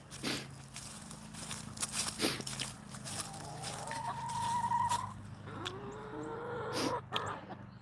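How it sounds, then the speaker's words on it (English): Backyard chickens cluck softly at close range with scattered footsteps and rustling, and a rising call stands out in the middle of the stretch against a quiet outdoor background. "I got freaking chickens."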